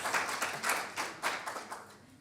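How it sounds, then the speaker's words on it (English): An audience at a Martin Luther King Day voting rights seminar claps in several soft, uneven bursts, fairly distant and brief. "you feel free to applaud"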